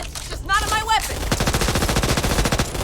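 Rapid pistol fire in the video game Back 4 Blood, a fast string of loud, evenly spaced shots rattling off in quick succession after a brief burst of other game noise.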